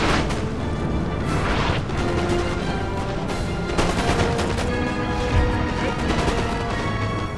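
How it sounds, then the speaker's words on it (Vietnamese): Musket volleys in a Napoleonic battle from Napoleon Total War, rapid overlapping cracks and booming shots firing irregularly throughout, loud and dense like a sustained firefight. "Ai à, đấu súng."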